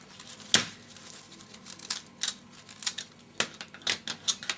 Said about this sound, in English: you're just going to cut the edge off about 1/4 of an inch. And by folding it, it makes it easier to cut it.